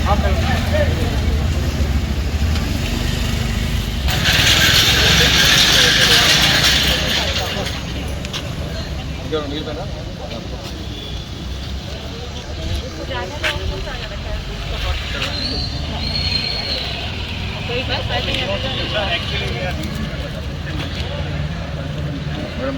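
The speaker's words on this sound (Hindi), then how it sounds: "ट्रैफिक पहले से कम हुआ, पहले से मूवमेंट कम हुआ।" Steady roar of street traffic in Hyderabad, with engines, passing vehicles and a brief hiss like an air brake, continuous and close, under voices talking throughout.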